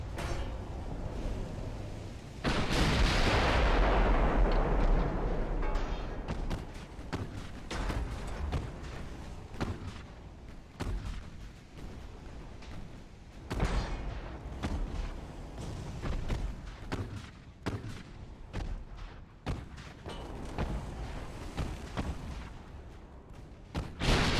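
Warship guns boom in naval battle video game Ultimate Admiral: Dreadnoughts, a heavy salvo early followed by scattered distant artillery thuds and rumbling over a steady ambient background, without talk.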